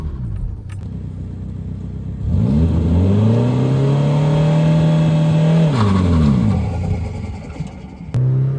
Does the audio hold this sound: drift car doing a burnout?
yes